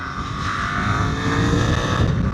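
A motorcycle engine pulling hard under acceleration while riding, a continuous loud mid-range drone with wind rush, close and steady for a couple of seconds without talk.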